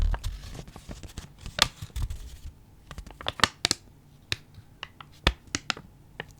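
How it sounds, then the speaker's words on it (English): Crisp euro paper banknotes in 10 and 20 denominations are handled close up, giving a run of sharp crackles and snaps at irregular intervals with quieter rustling between them. "It's very crisp paper."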